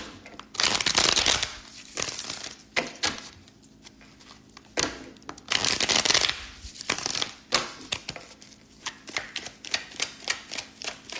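Playing cards are shuffled repeatedly up close, bursts of rapid riffling followed by sharp taps and clicks as the deck is squared and bridged.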